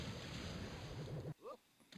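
Rushing water from the water skiing level of Rayman 2, a broad surf-like wash with a wavering low tone that cuts off abruptly, followed by brief faint sounds.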